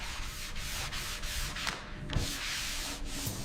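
Sanding on a rusted Tesla Model Y body panel smoothed with filler, a steady close rasping rub in repeated back-and-forth strokes, heard alone without talk.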